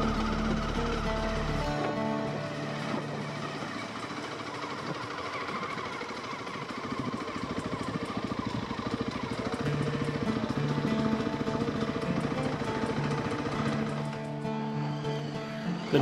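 Small motorbike engine running steadily at a moderate distance, a faint, even buzzing drone with slight swells in revving, with no voices.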